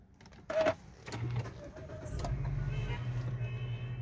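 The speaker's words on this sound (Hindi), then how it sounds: "मैं इसको स्टार्ट करता हूँ। पुश स्टार्ट है ये," A 2012 Nissan Juke starts by push button: a click and a short starter whir, then the engine catches and settles into a steady low idle rumble heard from close by.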